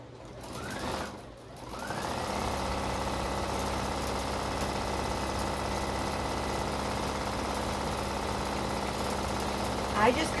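A sewing machine runs a quarter-inch seam through fabric placed right sides together. After a short start-up it settles into a steady, close mechanical whirr that holds without a break, with speech faintly present.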